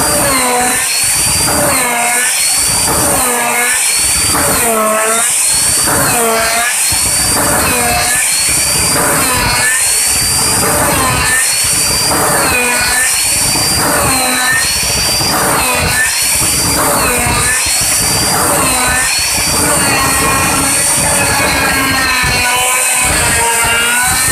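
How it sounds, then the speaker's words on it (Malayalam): Drilling machine boring holes: a loud, continuous mechanical whine and roar with a pulsing rhythm, running without pause and up close. "മെഷീൻ ഉപയോഗിച്ച് തുളച്ച് കഴിഞ്ഞു"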